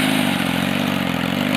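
Yamaha motorcycle fitted with a GYTR exhaust and mid pipe, its engine running loud and close with a steady, throbbing rev and mechanical clatter throughout.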